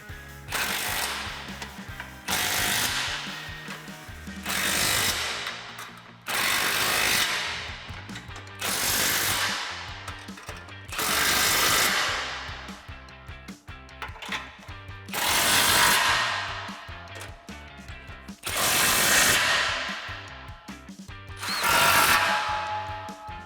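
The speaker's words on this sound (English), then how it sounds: "we can go ahead and start from the front and tighten up all of our bolts" A ratchet wrench tightens exhaust bolts on a 2015-2017 Mustang GT cat-back exhaust install, sounding as repeated loud bursts of rapid clicking, each lasting a couple of seconds with brief pauses between them.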